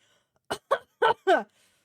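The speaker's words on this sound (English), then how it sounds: "Which makes me cough because I read so much." Four short coughs, each one a distinct burst, come close together and grow slightly stronger toward the end, set against otherwise quiet surroundings.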